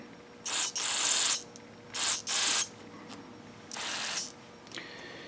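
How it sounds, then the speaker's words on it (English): Several short bursts of hissing fuel spray into the carburetor of a Troy-Bilt TB360 lawnmower with a Briggs & Stratton engine, in quick succession, two pairs and then one longer blast, close and loud in a quiet space. "I'm going to spray some fuel through the hole on the top"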